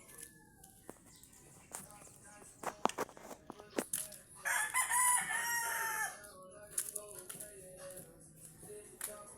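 A rooster crows once in a long, strained call at moderate distance, surrounded by scattered clicks and knocks in a quiet space.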